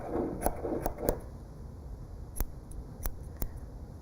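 Craft scissors snipping straggly strands of a handmade gnome's fibre beard, with a few crisp close snips and clicks spaced irregularly in a quiet room, and faint handling noise early on.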